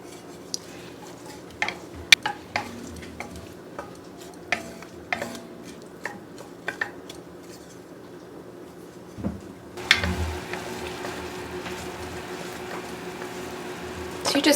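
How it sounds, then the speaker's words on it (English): Finely diced white onion softens in butter in a pot, a quiet low sizzle with scattered clinks and scrapes of a utensil against the pan, then a louder burst of frying near the end. "we're going to let these kind of soften and saute in our butter"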